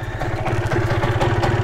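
A Yamaha TZR125 two-stroke motorcycle engine idles close by, with a steady, rapid, low putter and mechanical clatter running throughout, no voices over it.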